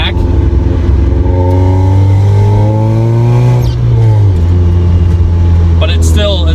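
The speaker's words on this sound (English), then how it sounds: "you guys can probably hear the exhaust" Exhaust note of a supercharged 1991 Mazda Miata fitted with long-tube headers, catalytic converters, resonators and a second muffler. It gives a steady, loud, droning engine tone that rises and falls with the revs, while a person talks over it throughout.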